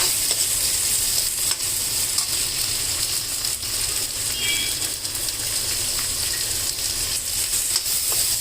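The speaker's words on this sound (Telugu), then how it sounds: "ఇది సిమ్లో పెట్టి మగ్గించుకుందాం" Maharashtra radish pods, a bean-like hybrid radish, frying on a low flame, giving a steady continuous sizzle with soft stirring noises and no talk.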